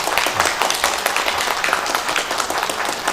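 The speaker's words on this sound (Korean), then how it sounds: "2층에 한 분 계시고 우리 박수로 환영하겠습니다." A church congregation claps steadily throughout, a dense continuous patter of many hands filling the room without pause.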